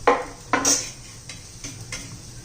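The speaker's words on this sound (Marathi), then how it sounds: "तर हे पण आपण आता झाकण काढून घेऊया दोन मिनिटानंतर" Metal lid lifted off a pan of frying brinjal slices, a couple of sharp clanks followed by lighter taps and scrapes, close and fairly quiet.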